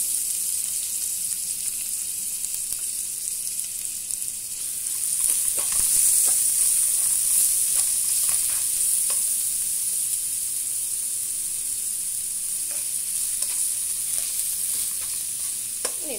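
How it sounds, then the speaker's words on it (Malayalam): Ginger and garlic frying in hot oil for a chicken wings masala give off a steady, loud sizzle and hiss that swells midway and continues unbroken, with no talking. "അത് നമുക്ക് ഇഞ്ചിയും വെളുത്തുള്ളിയും ഇടാം."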